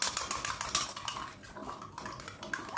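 A spoon stirring yeast, sugar and water in a glass, producing rapid close metallic clinks and scrapes in quick repeated bursts, with no talking.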